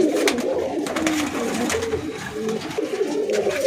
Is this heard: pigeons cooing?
yes